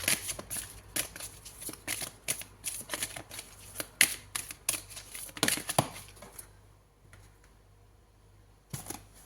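Tarot cards are drawn from a deck in a quiet room, making a close, soft series of papery flicks, slides and shuffling crinkles in bursts, then a pause and a final card snap.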